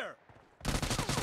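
A UMP45 submachine gun fires in a shooter video game, a sudden loud burst of rapid automatic shots kicking in after a quieter opening.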